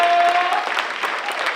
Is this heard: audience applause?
yes